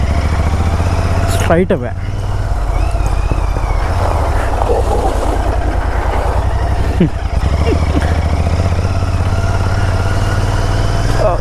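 A motorcycle engine thrums steadily and loudly as the bike rides over beach sand, with a wavering pitch throughout; someone speaks briefly over it.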